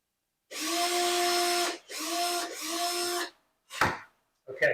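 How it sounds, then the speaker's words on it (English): A small power drill bores holes into the back of a banjolele fretboard in three close, whining bursts, the first longest, followed by two short clattering knocks. "I've now drilled those holes a little bit deeper in the back of there"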